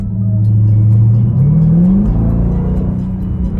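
Inside the cabin of a Dodge Durango Hellcat, the exhaust drones loudly and steadily, then its pitch rises as the engine revs up before settling into a sustained rumble, with no talking.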